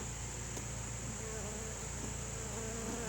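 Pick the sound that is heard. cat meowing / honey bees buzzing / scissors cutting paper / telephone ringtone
honey bees buzzing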